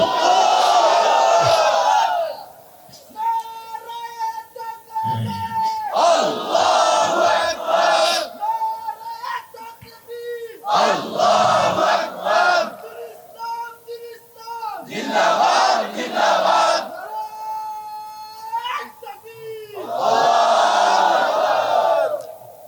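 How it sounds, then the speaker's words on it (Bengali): At a Bengali Islamic waz gathering, a large crowd roars the takbir back in loud, repeated bursts, trading with a single amplified voice leading the call between each massed shout. "জমিন আকাশ কাঁপানো একটা তাকবীর দেন, নারায়ে তাকবীর।"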